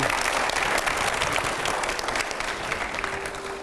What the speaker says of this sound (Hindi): थोड़ी जोरदार तालियों के साथ में आप लोग।